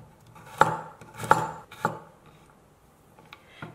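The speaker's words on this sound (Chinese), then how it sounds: "再切一点蒜片" A knife cuts garlic into thin slices on a board while pickled radish strips are prepared, giving three sharp, close taps spaced about half a second apart, then a faint final tap after a pause.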